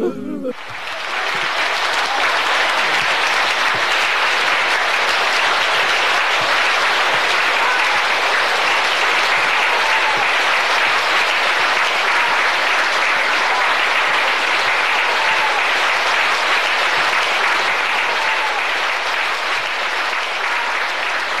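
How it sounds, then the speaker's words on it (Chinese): A live audience bursts into loud, sustained applause that carries on steadily for about twenty seconds after a brief voice at the start. "别鼓掌"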